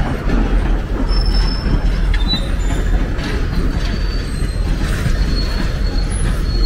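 A train led by F unit locomotives rumbles past at Jim Thorpe, loud and steady, with wheel squeal and faint metallic screeches riding over the continuous low roll of the cars.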